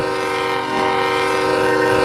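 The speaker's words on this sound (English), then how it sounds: "And looks like the train is gonna be nearby at the crossing." A freight train in the RO-Scale rail game, BNSF route, approaches a crossing; a loud, sustained multi-tone horn blares close up over the rumble of the train, with no talk.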